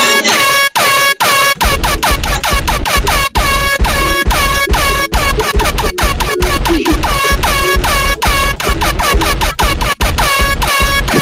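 Loud air horn blasts repeated over and over in a rapid rhythmic pattern, with brief gaps between some honks, filling the whole stretch with no talking.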